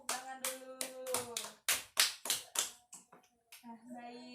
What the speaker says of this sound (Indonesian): pintar, tepuk tangan dulu